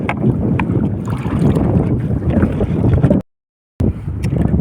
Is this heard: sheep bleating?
no